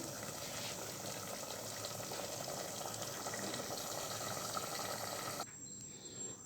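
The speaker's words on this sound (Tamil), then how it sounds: "கொஞ்சம் தண்ணி சேர்த்துக்கிறேன்" Water pours steadily into a pressure cooker holding mutton for biryani, a continuous close gushing hiss that stops abruptly near the end, leaving a quieter background.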